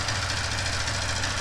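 A Yamaha R15 motorcycle engine idles with a rapid, even knocking pulse from worn piston and rings in the cylinder, close and continuous, with no voices.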